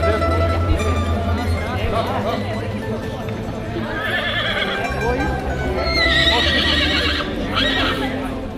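Lipizzaner horses neigh and whinny in repeated rising calls, with a few hoof clops and voices talking nearby throughout.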